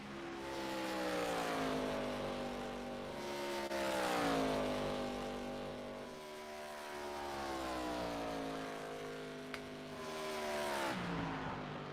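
Legends race cars lapping a track at Atlanta in a racing video game, engines droning and rising and falling in pitch as cars pass and accelerate, a continuous loud roar with no talk.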